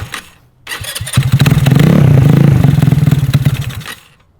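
A GY6-engined Honda Ruckus scooter cranks over cold, then catches into a loud, rapid, sputtering idle that runs for a few seconds before dying out.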